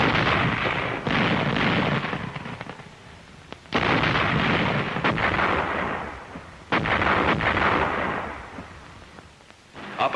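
A World War II artillery barrage booms repeatedly, a series of loud rumbling bursts close together, each swelling and decaying into rolling echoes with brief gaps between salvos.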